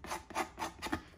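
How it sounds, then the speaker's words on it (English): A sanding sponge gives a dry, rasping rub along a paper edge in four quick strokes, close and fairly soft, with no voices. "I just try to sand it."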